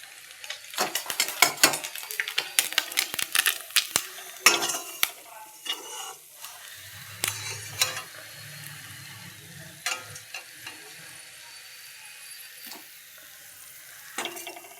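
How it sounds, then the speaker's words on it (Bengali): Fried fish pieces lifted from hot oil in a home kitchen: a soft sizzle under scattered metallic clinks and scrapes of a utensil against the pan, busy early on, then quieter with occasional knocks and a low rumble. "এই দেখো মাছ ভাজা হয়ে গেল এবার মাছগুলো উঠিয়ে নিচ্ছি"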